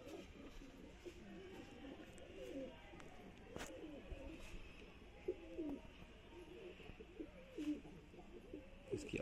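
A pair of domestic pigeons coo in soft, repeated throaty bursts, close by and fairly quiet, with faint background noise around them.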